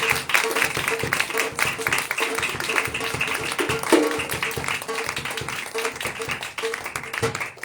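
A church congregation at a Sunday anointing oil meeting claps together in thanks to God, a dense, continuous wash of applause mixed with voices and room noise throughout.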